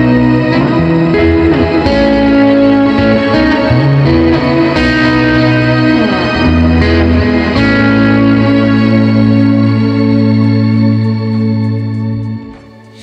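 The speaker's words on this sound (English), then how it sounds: "I have this preset called Shimmer because, well, it's using Shimmer Reverb" A guitar played through a Shimmer Reverb pedal preset set for an ambient sound rings out in loud, sustained, layered chords with a bright shimmering wash and long echoing tails, fading out at the end.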